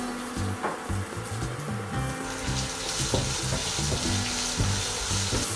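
Finely chopped onions hitting a pan of hot oil with dried red chilies and ginger for green gram usli, a loud, dense, continuous sizzle with a broad hiss and stirring clatter.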